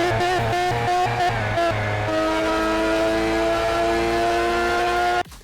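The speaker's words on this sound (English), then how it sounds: "That is the sound of the Lycan Hypersport." Lykan HyperSport engine in the racing game Asphalt 8, a loud, steady, tonal engine drone with pulsing notes early on, then a sustained whine that cuts off abruptly near the end.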